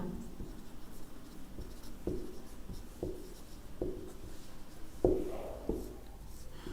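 Handwriting strokes, probably chalk or marker on a board during a geography lesson on rivers, come as a series of sharp taps and scratches roughly every second, moderately close with quiet room tone and no talk.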